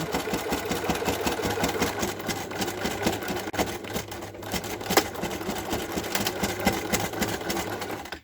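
A sewing machine stitching a fabric pouch, running steadily with a rapid, even mechanical chatter and hum, close and continuous without talk.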